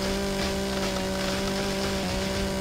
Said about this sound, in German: brauchen wir mal eine Kettensäge und reiß mal schnell den Baum hier weg